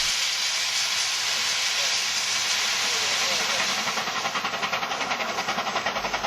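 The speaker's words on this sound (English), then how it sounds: "The red wheels are characteristic of Chinese steam locomotives." A Chinese steam locomotive with red wheels vents a loud continuous hiss of steam at a depot, and a rapid rhythmic chuffing pulse emerges under the hiss toward the end.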